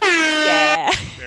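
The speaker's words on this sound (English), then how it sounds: "Bray, do you have an air horn effect that we can do for that?" A loud, blaring air horn blast sounds for nearly a second, then cuts off abruptly into a short noisy tail.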